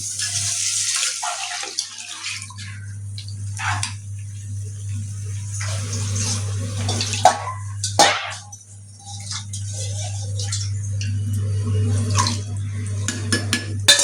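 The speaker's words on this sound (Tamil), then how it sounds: "இப்போ நம்ம எடுத்து வச்சிருக்க புளி கரைசல் அதில் ஊற்றிடலாம்" Tamarind water pours into a pan of fish curry in a home kitchen, a steady watery splashing over a low constant hum, with some clinks and a few louder sloshes.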